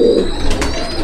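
Sylheti pigeons, a red-eyed imported breed, give a short low coo close by, with a brief burst of higher chirping over steady background noise.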